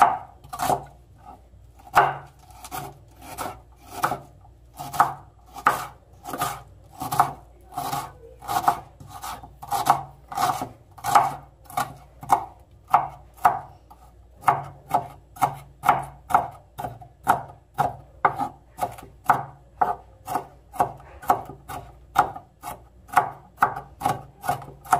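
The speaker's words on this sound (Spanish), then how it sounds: "Ahora picaremos la cebolla." Onion being chopped with a knife on a board, producing a steady run of sharp, evenly spaced chopping strikes, close and clear with no talking.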